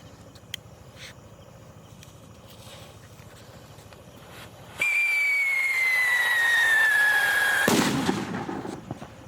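A Black Mamba firecracker holding 30 grams of powder, one of several banned firecrackers set off at a distance, shrieks with a long falling whistle for about three seconds before bursting in a loud crackling blast amid outdoor background noise.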